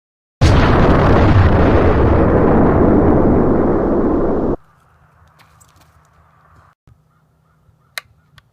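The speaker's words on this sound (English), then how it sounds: "as the gas expands, it will send the potato out the other end." A gas-combustion potato cannon fires with a sudden loud blast that roars on for about four seconds before cutting off, leaving faint quiet ambience and a few small clicks.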